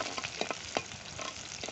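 Small shallots sauté in a clay pot, giving a soft close sizzle broken by a few quick scraping stirs of a spoon over a moment, with no voices.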